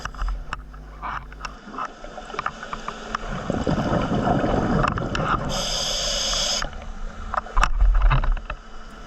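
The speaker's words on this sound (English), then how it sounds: "So the noise you can hear, I think, is the diesel generators on board." A ship's diesel generators make a steady mechanical drone with a broad low rumble throughout, rising in intensity midway, with a brief high hiss overlaid.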